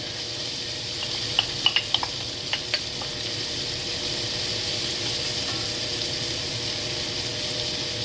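Onion and garlic fry with bacon in a pan, giving a steady close hiss and sizzle with a few crackling pops early on, no voices.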